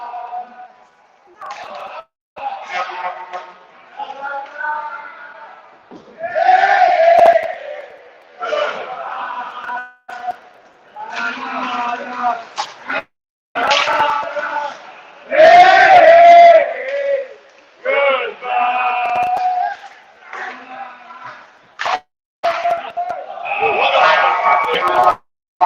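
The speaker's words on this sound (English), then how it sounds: "And the fans serenading the Cougars." Hockey crowd at a home rink chants and sings in loud, rhythmic bursts, with brief pauses between phrases, while a commentator talks over it.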